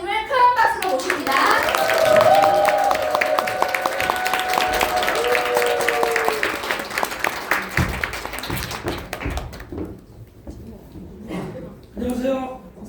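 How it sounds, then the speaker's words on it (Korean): An audience at a company seminar claps loudly to welcome a visiting head-office team leader to the stage, a bright burst of applause over music and voices that fades after several seconds, then a short burst of clapping returns. "큰 박수로 모십니다."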